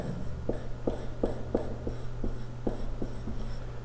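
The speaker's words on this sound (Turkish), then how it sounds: "Şöyle az daha geriden yazayım." Chalk or marker strokes on a classroom board during a Turkish maths lesson, about a dozen short taps and scrapes in an irregular rhythm, close and moderately loud over a steady low hum.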